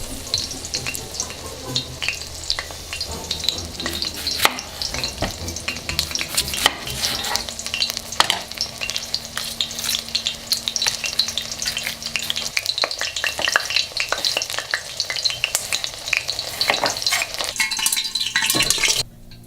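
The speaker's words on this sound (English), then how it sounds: "I like to put it into this oil." A quarter of an onion fries in hot oil for Uzbek lamb plov, a loud continuous sizzle and crackle with occasional clinks of utensils against the pot, close up and without voices.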